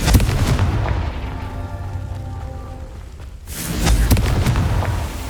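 Confringo blast spell in Hogwarts Legacy, two loud crackling explosive bursts with a short dull lull between them, close and forceful.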